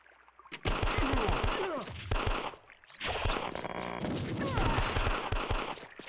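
Explosions and rapid gunfire in the arcade game Elevator Action Returns, dense bursts of rattling shots and booming blasts in quick rhythmic volleys, with a short lull in the middle before the barrage resumes.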